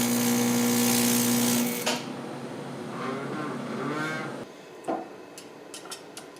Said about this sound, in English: we'll just get some quick tacks on here so that I can stretch the bit before fully welding it